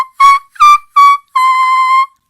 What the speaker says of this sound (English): you're going to have whistle tones